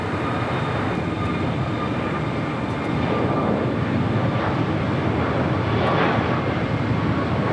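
A United Boeing Dreamliner jet landing at LAX makes a loud, continuous, broadband engine roar that holds steady and swells slightly for the whole stretch, with no voices.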